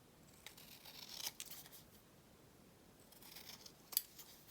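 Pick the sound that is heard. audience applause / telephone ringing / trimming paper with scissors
trimming paper with scissors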